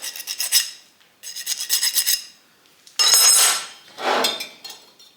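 Four short bursts of hand-filing on a motorcycle engine piston ring to remove a burr, bright rasping strokes in quick rhythmic runs with brief pauses between, close and fairly loud.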